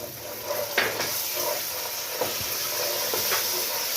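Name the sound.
butter sizzling as it is added to the pan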